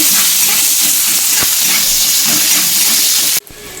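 Onions frying in hot oil in a pan give a loud, steady, close hiss that cuts off abruptly near the end, with no talking.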